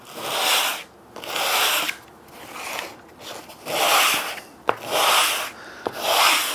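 Wood mating surface sanded by hand with 80-grit sandpaper while building a native bee box, heard as about six steady rasping strokes in a regular back-and-forth rhythm, close and fairly loud with no talk.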